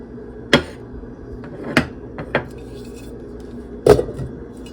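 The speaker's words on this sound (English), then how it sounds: "Put the lid on." A lid is set on a pot of lasagna soup, giving a few sharp metallic clanks and rattles spread over several seconds, close and fairly loud, with no talking.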